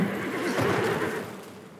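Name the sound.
video game enemy making horse-like neigh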